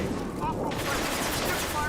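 Dense gunfire in the Mass Effect 2 video game, a continuous rattling barrage of shots, close and loud, with voices shouting over the combat.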